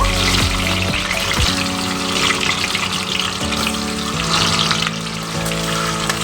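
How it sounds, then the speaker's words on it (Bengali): Eggs sizzle steadily in hot oil, a dense, continuous frying hiss that stays loud and close throughout with no voices over it. "গরম তেলে দিয়ে দেবো ডিমগুলো প্রথমে ডিমগুলো আমি ভেজে নেব"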